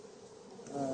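Honey bees hum steadily around a hive's inner cover where sugar has been fed, a soft continuous buzz that swells slightly louder toward the end.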